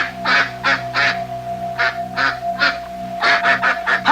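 A duck quacks in a series of short, nasal honks, some spaced and some in a quick run, heard close over a steady electrical hum.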